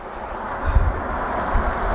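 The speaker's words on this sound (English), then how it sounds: "It's actually pretty windy, too." Wind blows hard at the start of a blizzard, a broad, rushing roar with gusty low rumbles buffeting the microphone, swelling briefly twice and never letting up.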